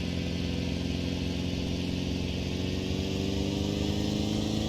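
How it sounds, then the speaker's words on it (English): Citroen car engine in a Microsoft Flight Simulator 2020 mod, a steady mid-pitched drone that rises slightly as the throttle opens, continuous and fairly quiet with no talking. "Gotta give her quite a bit of throttle to get moving."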